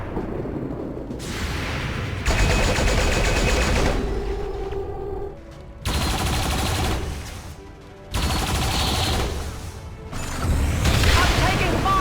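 Gunfire and heavy blasts from an XCOM 2: War of the Chosen battle on PC, loud bursts of shots and booms filling most of the stretch, with short lulls between volleys and possible voices mixed in.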